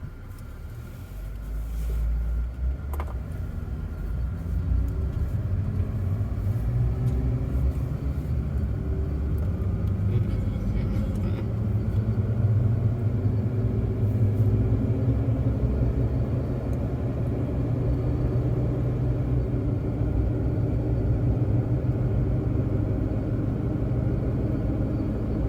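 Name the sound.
car driving along the Foothills Parkway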